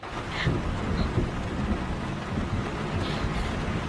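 Heavy rain pours steadily beneath low, rolling thunder in a hurricane scene from a Hollywood film dubbed into Tamil, a dense, loud, continuous roar.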